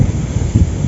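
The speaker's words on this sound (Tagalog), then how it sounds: "Lakas ng hangin." Strong wind buffets the microphone outdoors at a fishing spot, a steady low roar with gusts swelling near the middle, with no voices.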